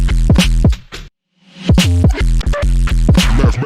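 An electronic music drop plays back loud and punchy, with heavy bass hits and chopped synth stabs. A brief full silence near the one-second mark breaks it before the drop slams back in and continues to the end.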